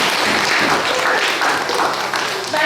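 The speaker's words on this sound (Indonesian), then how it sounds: "Kita beri tepuk tangan untuk mereka." A school class claps together for classmates, a brief burst of many hands with some voices mixed in, loud and close in a classroom.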